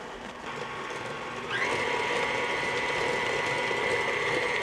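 An electric mixer beating ginger snap dough whirs with a gear-like grind. Midway its motor pitch jumps up as the speed is raised, then it holds a steady, louder hum.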